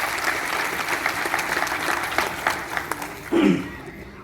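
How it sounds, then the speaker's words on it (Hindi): Audience applause at a political party gathering, a brief burst of many hands clapping at moderate distance, with a short vocal sound near the end. "एक बार जोरदार तालियां हमारे सभी युवा और बुजुर्ग साथियों के लिए"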